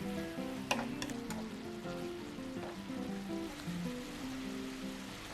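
Boiled radish greens stir-fry with a spoonful of perilla oil and a little seasoning in a pan, giving a soft, steady sizzle and crackle that runs quietly throughout with no voices.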